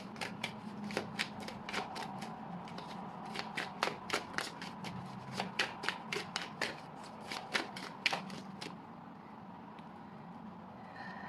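A deck of tarot cards is shuffled up close in a quiet room, giving a long run of quick, crisp riffling snaps in uneven bursts before settling into silence near the end.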